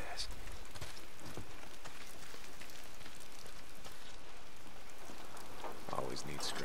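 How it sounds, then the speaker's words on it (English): Steady rain falls in the video game Days Gone, a dense, even hiss of drops on surfaces that runs throughout at moderate level, with a few brief louder spatters near the end. "Funny as I go from snow to rain."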